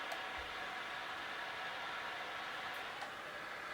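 Steady hiss of white noise from a baby sleep sound machine, a constant even wash with no variation, alone and moderately loud.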